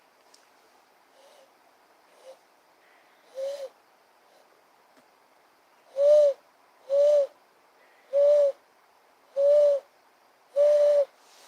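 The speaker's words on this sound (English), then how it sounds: "10 o'clock at night, you'll hear a howl of an owl." An owl hoots repeatedly at night, a few faint scattered calls at first, then five loud, evenly spaced hoots in a steady rhythm, with a brief voice early on.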